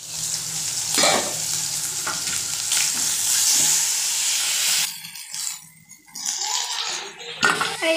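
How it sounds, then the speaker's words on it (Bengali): Fish fries in a pan with a bright, dense sizzle, then the frying drops away into quieter spatters and clinks of a utensil against the pan. "এই তো মাছ ভাজতে বসিয়ে দিয়েছি"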